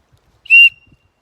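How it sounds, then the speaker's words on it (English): An emergency whistle from a hiking pack gives one short, loud, shrill blast of about a quarter second, standing alone against silence with a faint tail of echo. "There is a whistle, emergency whistle."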